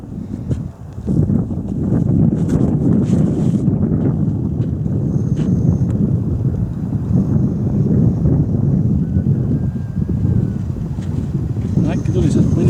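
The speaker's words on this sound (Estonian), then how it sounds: "Tuuleks muutunud või?" Strong wind buffets the microphone outdoors at a disc golf course in Kohila, producing a loud, continuous low rumbling roar that swells and eases throughout, with faint bits of talk underneath.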